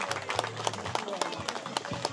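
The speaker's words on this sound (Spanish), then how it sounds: "Un aplauso para María Hilario," Audience applause at a family recognition ceremony honoring María Hilario, a steady patter of many hands clapping at moderate distance, with voices and a low hum running underneath.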